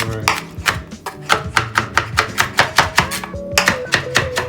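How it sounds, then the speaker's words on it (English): Smoked onions being chopped with a knife on a cutting board, a loud, close, steady rhythm of sharp thuds at about four strokes per second with a brief pause, no talking. "I'm just gonna really chop them"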